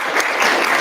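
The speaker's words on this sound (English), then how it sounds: "we're going to just welcome her right now with uproarious applause" Dense, loud applause from an expo audience welcoming a speaker, a brief continuous burst of many hands clapping close by.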